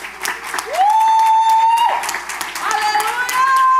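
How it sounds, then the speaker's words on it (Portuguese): Church congregation applauding during a Portuguese-language worship service, steady clapping and crowd noise throughout, with a voice or sustained musical tones gliding above it. "Eu quero aplaudir Jesus com você"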